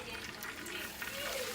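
Olive oil being poured into a cooking pan, a brief, soft liquid trickle and splash heard close up, fairly faint and steady.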